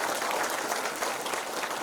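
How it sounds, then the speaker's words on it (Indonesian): Audience applause fills a town hall meeting at PT Perta-Samtan Gas, a dense, steady wash of clapping that holds for the whole moment with no voices on top. "Tepuk tangan."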